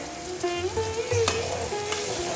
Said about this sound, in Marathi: त्याला छान 5 मिनिट तेलामध्ये असं शिजू दे